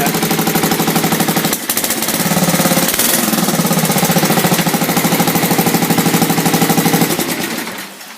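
A tractor engine runs loud and close, a dense rapid knocking chug that holds steady for about seven seconds before easing off at the end.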